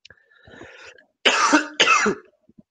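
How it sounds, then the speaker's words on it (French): A throat clears softly, then two harsh, loud coughs follow close together, near and alone in an otherwise quiet room. "Je vous prie de m'excuser pour cette toux"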